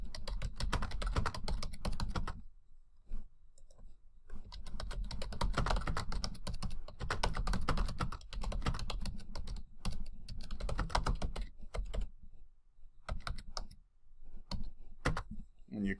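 Steady computer keyboard typing with scattered mouse clicks during the creation of a forum thread. The keystrokes come in rapid bursts with a few short pauses, quiet and close, with no talking.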